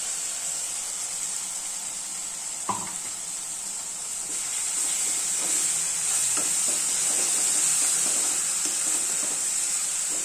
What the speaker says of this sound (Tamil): இது நல்லா ஒரு 2 நிமிஷம் வதங்கட்டும்.